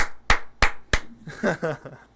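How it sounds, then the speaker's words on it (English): Three sharp, evenly spaced hand claps ring out close by, followed by a brief burst of a voice. "Round of applause."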